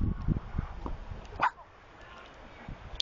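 A dog gives a few short barks and a yip, fairly close, over a faint background hum with scattered rustling.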